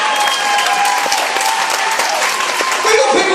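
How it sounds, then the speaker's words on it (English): Loud, dense applause from a comedy show audience at a holiday venue in Caister, sustained clapping close by with a few voices mixed in near the end. "We got people clapping now who didn't even want to."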